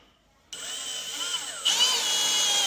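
A power drill working on a loose MDF cabinet drawer front whirs up after a moment of quiet, its high motor whine rising in pitch partway through and running steadily to the end.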